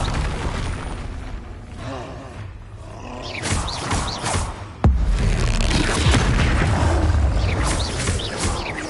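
Confringo fire spell blasts from the wizarding game Hogwarts Legacy: a sharp boom erupts midway, followed by a roaring, crackling burst under busy game sounds.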